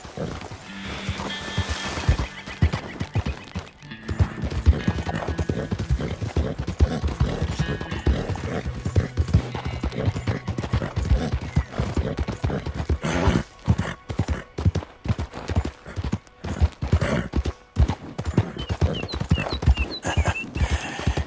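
Horse hooves clip-clop in a steady walking rhythm in Red Dead Redemption 2, close and clear, with snorts and a neigh among the footfalls.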